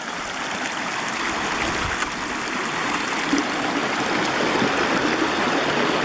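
Reedy Creek runs high, a continuous rushing and splashing of flowing water close by at a steady level, with no voices.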